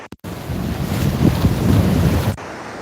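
Ocean surf at Cocoa Beach rushes and churns close by, mixed with heavy wind buffeting the microphone for a couple of seconds before cutting off abruptly.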